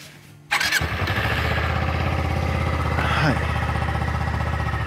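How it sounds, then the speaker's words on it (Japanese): A Suzuki V-Strom 250 motorcycle engine cranks and catches after a short quiet moment, then settles into a steady, loud, close idle for several seconds. "例えばこれでエンジンをかけると"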